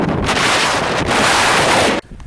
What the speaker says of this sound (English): Strong wind going. Sorry about the noise.